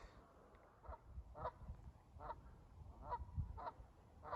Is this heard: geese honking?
yes